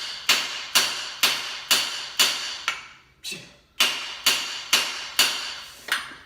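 A hammer strikes metal bolts in a steady series of sharp, ringing impacts, about ten blows with a brief pause midway, close and loud with no talk.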